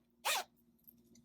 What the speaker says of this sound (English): let's give that zipper a try.